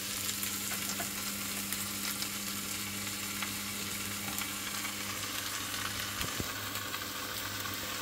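Liver and smoked salmon fry together in a pan on a low-heat side of the stove, giving a soft, even sizzle throughout, with a steady low hum underneath and a couple of small clicks near the end.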